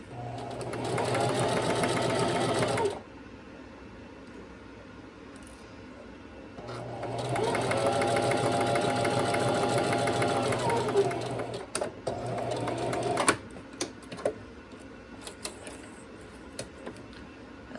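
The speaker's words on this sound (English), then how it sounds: "whenever you're doing edge stitching or top stitching, you want to make sure it's as neat and straight as possible" A sewing machine edge stitches a shirt placket in two long, loud runs of rapid, even stitching separated by a pause, followed by a short burst and then scattered light taps and clicks.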